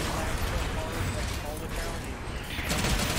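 Dense, continuous rapid gunfire in a competitive shooter video game, loud bursts of shots blending into a steady roar that lasts the whole moment and swells again near the end.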